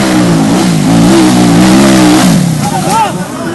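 A motorcycle engine revs loudly and steadily on a dirt track during a local motor event in Magetan, its rising and falling pitch continuous and close, with a brief higher whine near the end.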